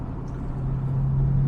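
A Jaguar XJS V12 convertible with slight exhaust modifications idles along at about 1500 RPM, a steady, deep, smooth engine hum heard close and continuous without any voices.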